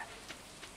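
Steady soft rain patters through a short moment in the Stardew Valley farming game, a faint even hiss with two brief brighter splashes, no voices.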